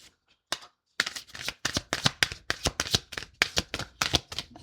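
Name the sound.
shuffling and drawing tarot cards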